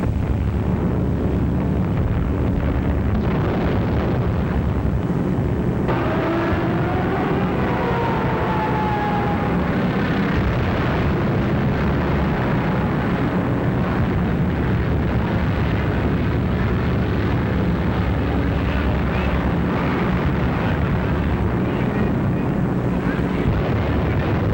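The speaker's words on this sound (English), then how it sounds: "Unopposed bombing raids sent defenseless civilians fleeing in stark terror." Archival wartime footage of an unopposed bombing raid on civilians carries a constant loud roar of aircraft engines and rumbling blasts, dense and unbroken throughout.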